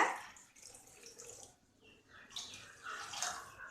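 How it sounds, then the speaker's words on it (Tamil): Water splashes and pours into a pan close by, about two cups, a soft, steady flow rising and falling over a few seconds with no talking. "இப்போது இந்த கடாயில் நம்ம வந்து தண்ணி ஆட் பண்ணி போகிறோம்"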